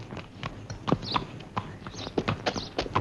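Horse hooves clip-clop in a steady, uneven rhythm of sharp knocks, fairly close, in a scene from a 1978 Hindi film, with a faint background bed and no talk over them.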